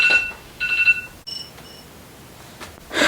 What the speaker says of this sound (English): So that's my alarm telling me I need to take my prenatal.